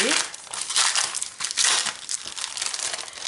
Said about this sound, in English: just fold this back so I don't wreck anything